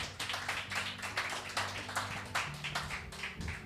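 Congregation in a church service clapping in a quick rhythmic beat, moderately faint, with an organ or keyboard chord sustained underneath.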